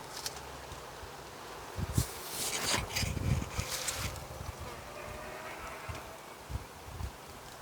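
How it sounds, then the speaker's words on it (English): Honeybees buzzing among garden flowers near a koi pond, a faint soft hum with brief louder passes as insects fly close, under light outdoor rustle and wind. "the butterflies are everywhere loving it, and so are the honeybees"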